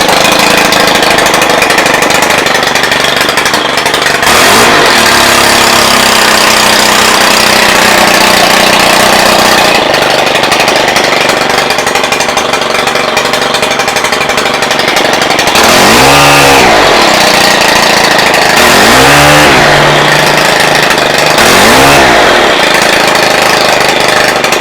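A Stihl combi unit's small two-stroke engine with a loss of power runs loudly close by, idling with a raspy buzz before being revved several times in quick, rising bursts.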